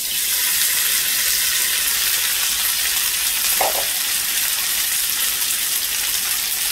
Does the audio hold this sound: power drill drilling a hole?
no